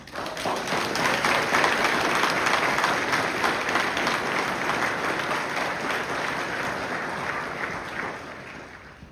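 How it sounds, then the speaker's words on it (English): Sustained audience applause at a sheriff's swearing-in ceremony, a full room clapping steadily that swells early and then slowly tapers off. "Can you give them a round of applause?"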